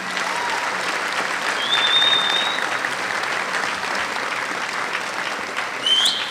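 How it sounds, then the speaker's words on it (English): Graduation audience in a high school gym applauding in sustained, even clapping with a roomy echo. A couple of brief whistles cut through the crowd noise. "So if we could give her and Miss Vicki a round of applause and thanks"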